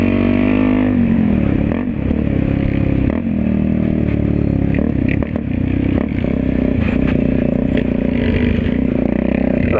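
Motorcycle accelerating hard along a dirt road, its loud engine droning and climbing in pitch close by, with gravel clatter and scraping throughout and no talk.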